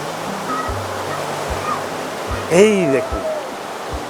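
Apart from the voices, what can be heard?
river water flowing with current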